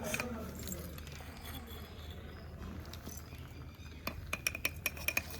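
A metal ladle clinks and scrapes against a cooking pot while pongal is stirred, with a run of quick, sharp metallic taps toward the end over steady background noise.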